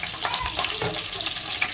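Onions frying in mustard oil for a Bengali goat meat curry sizzle steadily and close by, with a few soft stirring knocks across the short stretch and no one speaking.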